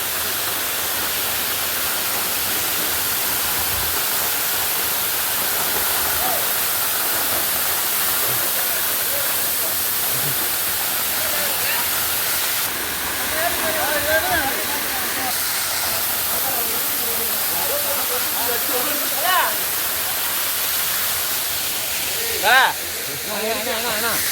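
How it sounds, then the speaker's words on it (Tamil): Steady broadband rushing of the Jalagamparai waterfall near Tirupattur fills the whole stretch, with faint voices occasionally audible beneath the roar. "அருவி வந்துருச்சு."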